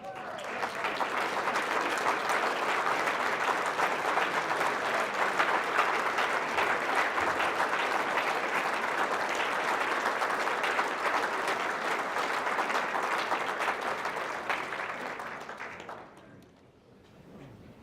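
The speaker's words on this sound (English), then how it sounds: "Now will all veterans please rise for a big round of applause." Veterans Day luncheon audience gives a big, sustained round of applause, dense clapping for about fifteen seconds before fading out.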